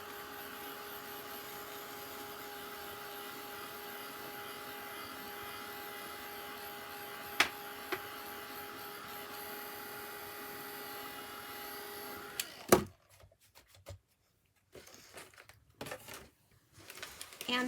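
A dryer blowing on freshly applied paint to dry it before more of a pattern is added: a steady, close whir for about twelve seconds, then it cuts off, leaving quiet with scattered handling clicks.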